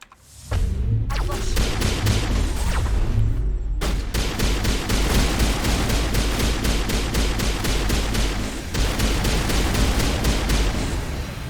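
Rifle fire in Mass Effect 1 on Insanity difficulty, heard as a rapid, steady stream of loud shots that continues almost without a break.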